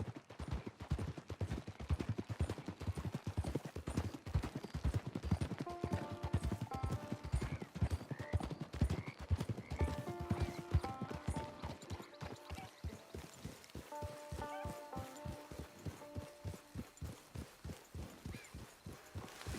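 Horse hooves clip-clop at a steady trot while riding in Red Dead Redemption 2, the rhythmic beats loud and close throughout, with a brief whinny and soft musical tones beneath.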